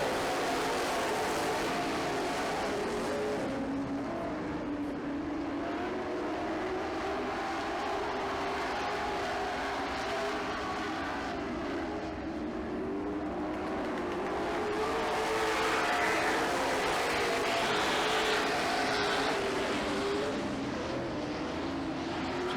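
Race cars roar around a dirt track during the last lap of a feature race, a dense continuous engine drone that swells and fades slightly as the field passes, loud and steady throughout.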